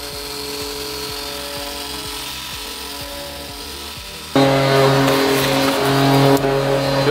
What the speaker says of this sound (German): Und schleifen jetzt quasi diesen Lack ab, den wir mühevoll vor einem Jahr dran gemacht haben.